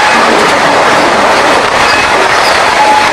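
Loud, close rolling roar of the Paharia Express running nonstop on rails toward Howrah, heard from inside a 2008-built AC coach, with steady wheel clatter and faint squeals throughout.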